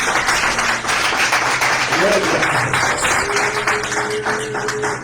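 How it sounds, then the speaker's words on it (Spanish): Church congregation applauding, a brisk burst of clapping from the room that runs the length of the clip, with a voice speaking briefly over it. "Un aplauso a Cristo por eso."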